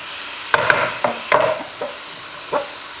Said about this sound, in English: Let that saute down.